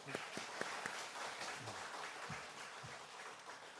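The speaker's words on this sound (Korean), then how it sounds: "하나님 영광의 박수 한번 드릴까요?" A church congregation gives applause, a broad, fairly distant wash of many hands clapping with a few stronger claps early on and faint low thumps underneath.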